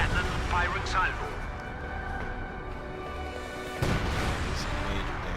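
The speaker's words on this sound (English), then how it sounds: "Railway cannon firing salvo." A railway cannon fires a salvo in Company of Heroes 2, with heavy booming blasts rolling over dense rumbling battle noise while a voice talks throughout.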